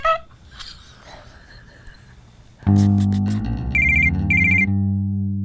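A voice imitates a clown horn or bike horn with loud, buzzing, nasal honks after a stretch of quieter, muffled talk.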